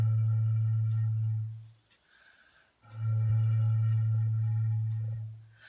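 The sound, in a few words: flute imitating wind blowing across a log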